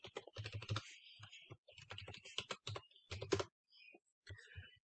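A computer keyboard is typed in bursts of clicky keystrokes while Python code is entered, with short pauses between runs, close and clear.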